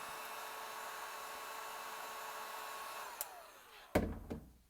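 A heat gun blows a steady, airy whir while gently warming the heat sink backing for a Chromecast Ultra, then cuts off, leaving a few close handling clicks and taps.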